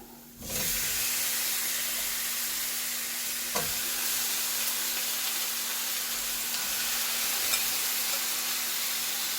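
Chicken pieces fry and get stirred in a pan for green chicken gravy, a steady loud sizzle starting abruptly after a quiet moment and continuing throughout, with an occasional scrape of the spoon.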